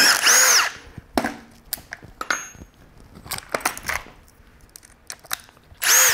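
A Milwaukee compact impact driver fitted with a Shockwave bit whirs in short loud bursts, with pauses and clattering handling noises between the runs.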